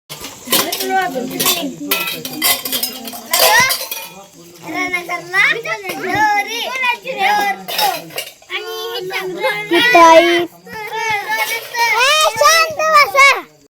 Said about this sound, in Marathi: आता भांडी घासून घेते